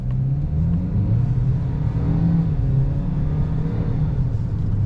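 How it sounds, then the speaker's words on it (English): A turbocharged 2025 Ford Maverick XLT pickup pulls away briskly from a stop sign without full throttle, its low engine hum rising in pitch as it accelerates, heard from inside the cabin. "we're gonna take off like we're taking off like quickly, but not flooring it."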